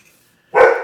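A single loud, close dog bark breaks a near-silent pause, short and sharp.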